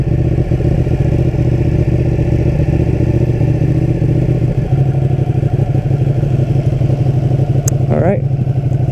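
A Ducati Panigale 959 motorcycle runs at a steady, loud idle close by while it is wheeled back onto a sidewalk. A brief clatter and a higher rising whine break in near the end.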